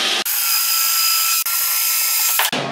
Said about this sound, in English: drill a hole through both units. All the way through.